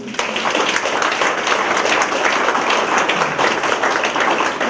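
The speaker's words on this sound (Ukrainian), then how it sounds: "Оплески" Audience applause rings out steadily at an education workers' awards ceremony in Lozova, a dense, even wash of clapping from a hall crowd that holds at full level throughout.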